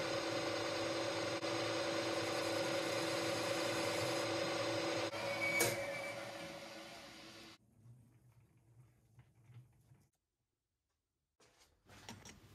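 A metal lathe rough-cuts a bearing recess in a metal bar, giving a steady mechanical hum with faint ticking that cuts out partway through, then fades into quiet shop noise.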